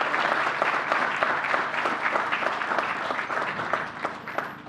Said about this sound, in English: Give New Yorkers an round of applause